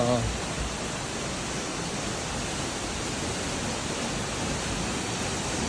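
Cheonjeyeon waterfall on Jeju, fed by heavy rain, pours as a constant broadband rush of falling water, loud and unbroken, with a brief voice at the very beginning.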